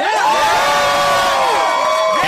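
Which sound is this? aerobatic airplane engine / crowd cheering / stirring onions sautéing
crowd cheering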